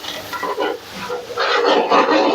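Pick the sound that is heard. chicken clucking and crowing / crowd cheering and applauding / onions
onions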